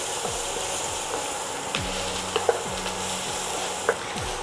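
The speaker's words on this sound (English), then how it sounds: "Now that my onions are nice and translucent, I'm going to add in some pepper. Give that a good stir." Onions and pepper sizzle steadily in a hot pan while a spatula stirs them, with several short scraping clicks and taps standing out over the continuous frying hiss, close and moderately loud.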